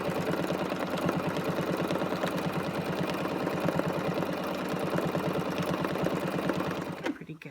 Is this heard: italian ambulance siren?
no